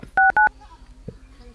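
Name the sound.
telephone number being dialed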